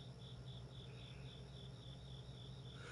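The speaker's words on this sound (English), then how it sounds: "I hope you guys can't hear the crickets in the background" Crickets chirp at night in a steady pulsing trill, faint and distant, with no talking over them.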